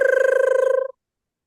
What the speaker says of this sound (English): Who's heard a gray tree frog in their yard? Anybody? I'll give you a hint. They sound like this.